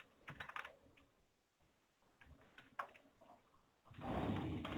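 Typing on a computer keyboard while writing C code, with bursts of close, crisp key clatter separated by pauses and a denser stretch of rapid keystrokes at the end.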